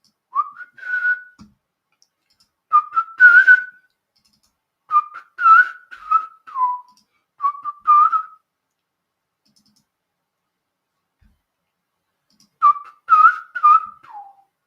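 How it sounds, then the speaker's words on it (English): A person whistling a short tune in separate bursts, clear and close, with pauses of silence between phrases and no other sound. "I can't whistle for nothing, but I'll try"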